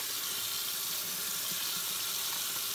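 Water runs steadily into a kitchen sink as a pan is emptied out, a constant close rushing stream with no talking.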